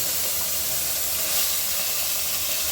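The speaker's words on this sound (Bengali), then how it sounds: "জিরে দিয়ে এবার হচ্ছে মশলাটাকে আগে কষিয়ে নেব" Cumin and spices fry in hot oil as the base for a cabbage dish, giving a steady, even sizzling hiss that stays close and constant throughout with no voices.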